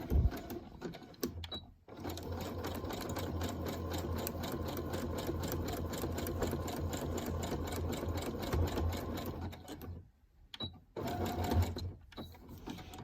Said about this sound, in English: We just roll over it as if it was cut that way to begin with and put a seam on it